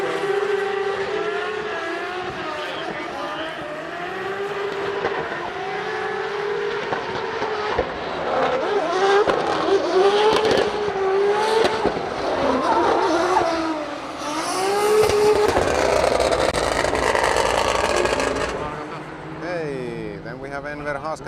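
A drift car at Drift Masters practice in Finland wails through repeated rising and falling engine revs, swelling louder in bursts and then tailing off, with a commentator talking over it.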